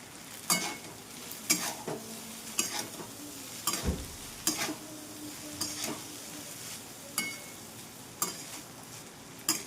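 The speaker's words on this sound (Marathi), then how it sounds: "फ्राय करून घेणार कोथंबीर" Coriander frying in a pan sizzles steadily while a utensil stirs and scrapes, giving a string of sharp clinks and scrapes at roughly regular intervals, close and clear with no talking.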